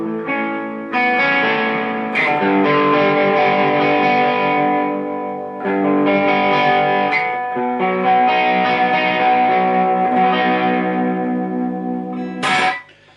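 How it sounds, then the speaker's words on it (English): An electric guitar with EMG Steve Lukather pickups, volume rolled off, strums sustained chords in a mellow, fairly clean tone, ringing steadily with a short pause and a sharp strum near the end. "you roll off the volume, you get some pretty good clean tones"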